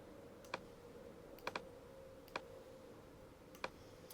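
A computer mouse clicks a handful of times, sharp isolated taps with a few quick doubles, heard faintly against a quiet room hum and no talking.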